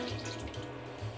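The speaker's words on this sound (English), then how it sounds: "In goes our plant milk." Plant milk pours into a pot of vegan clam chowder, a short close liquid gurgle and splash lasting about a second, no talking.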